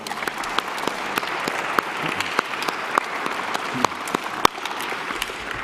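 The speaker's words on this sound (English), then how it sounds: "let's give Caleb a round of applause" At a 2023 school awards ceremony, an audience gives Caleb Sigstad a round of applause, a moderate, continuous patter of many hands with a few sharp, close claps standing out.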